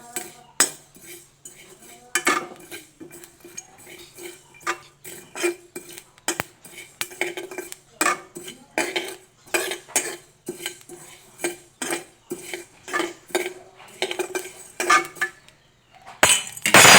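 Mustard seeds, coriander and panch phoron dry-roasted in a kadai, with a spatula scraping and clinking against the pan in a steady series of sharp metallic strokes, near and loud, without talk.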